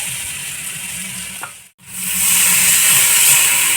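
Fish hitting hot oil in a pan, a loud, steady hiss and sizzle that briefly cuts out and then returns stronger and brighter, with no talking.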